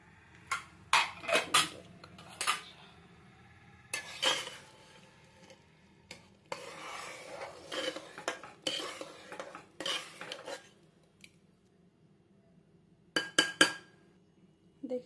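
Dal being stirred in a pressure cooker, heard as sporadic metallic scrapes and clinks of a spoon against the pot, each brief and separated by quiet gaps, close and fairly soft, with no talk.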